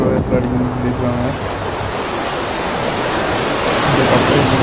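Rough sea waves at Flåm, Norway, make a broad, continuous roar of surf mixed with strong wind noise. A brief low tonal hum opens the passage before the rushing water takes over.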